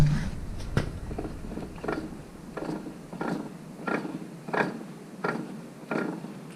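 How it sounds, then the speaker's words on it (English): A worn pinion bearing in a front differential makes a faint, repeated ticking or grinding pulse, roughly once per second, heard up close at low volume. "That's where that noise is coming from. It's coming out of the back of the pinion bearing."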